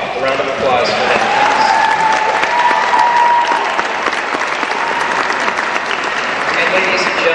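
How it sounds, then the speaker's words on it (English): An audience at a sixth grade orchestra concert claps loudly and steadily for the performers, a dense, continuous round of applause with a voice briefly audible beneath it. "A round of applause for them."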